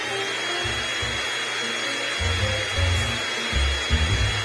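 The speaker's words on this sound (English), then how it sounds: "Okay, robot, start vacuuming." A vacuum cleaner drones steadily indoors, its motor pulsing in short uneven bursts as it is pushed back and forth across the floor.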